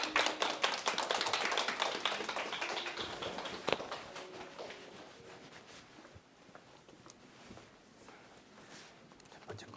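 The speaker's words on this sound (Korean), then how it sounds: "박수!" An audience at a maternity class claps to welcome a tenor, a dense patter of many hands that is strongest at the start and thins out to scattered faint claps and taps.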